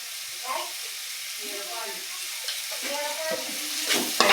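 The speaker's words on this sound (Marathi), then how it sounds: "मसाला टाकून पण छान असं परतून घ्यायचं." Homemade chilli masala sautéing in oil, a soft, fairly quiet sizzle with a utensil scraping and stirring through it, growing a little busier toward the end.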